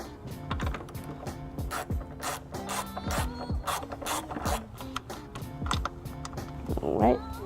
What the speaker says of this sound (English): I'll need to remove these two 10mm bolts using my socket.